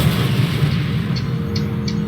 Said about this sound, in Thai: เอ้าระเบิดเฉย